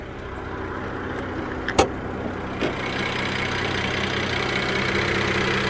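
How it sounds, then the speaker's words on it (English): A 2015 Mercedes GLK350 4matic engine idles steadily, a close, even mechanical hum with fine direct-injection ticking, broken by two brief sharp clicks early on. "Is that the sound of direct injection?"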